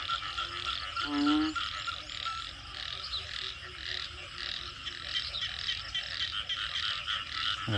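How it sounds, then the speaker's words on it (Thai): After rainfall, frogs call from a rice paddy in a thick, unbroken chorus, while a few nearby individual croaks and a short rattling call cut through the steady background din. "นี่เสียงเขียดนะครับ เมื่อกี้เสียงอึ้งห้องอยู่ตรงนี้นะครับ"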